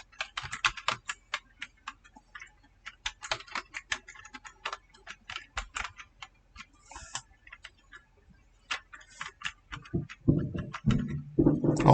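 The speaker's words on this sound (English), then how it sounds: "open up a new tab at the top, and type that address in." Rapid, irregular key clicks as a web address is typed on a computer keyboard, close and light, with brief pauses between bursts and a low rumble of handling toward the end.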